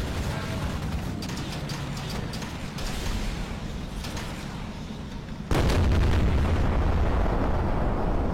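A Ho-Ri tank's main gun fires in a tank video game with a heavy, booming blast, then a loud rumble of engine and tracks that rises sharply and holds steady, all close and continuous.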